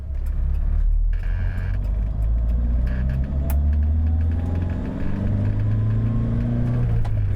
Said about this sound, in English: So as you accelerate, the engine is a little raucous